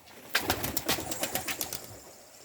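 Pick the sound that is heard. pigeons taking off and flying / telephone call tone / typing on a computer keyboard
pigeons taking off and flying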